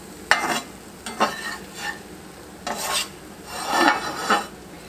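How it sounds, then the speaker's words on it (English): Scrambled egg being turned and cooked in a skillet for a breakfast brunch, several close scraping, stirring strokes of a utensil against the pan over a soft, constant sizzle. "And then I'll take it and flip it to get that side to go ahead and cook."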